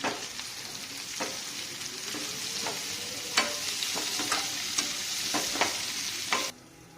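Soybean chilli with carrot, green chilli and cabbage sautéing in a pan, a steady close sizzle broken by repeated sharp scraping clicks of a spatula stirring, cutting off abruptly near the end.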